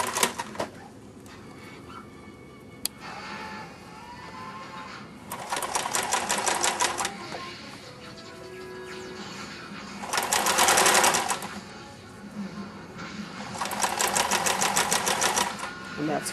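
A sewing machine stitching the elastic casing on leg warmers, running in three rapid mechanical bursts of a few seconds each, close and loud, with a person talking quietly between the runs.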